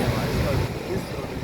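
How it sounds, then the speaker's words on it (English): Ocean waves rolling onto a beach at a Maspalomas hotel, a steady broadband wash of surf with wind noise buffeting the microphone, fairly close and continuous. "Lovely waves."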